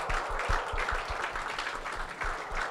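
Audience at a satellite launch event applauding, a dense, steady patter of many hands clapping at close range with no talk over it.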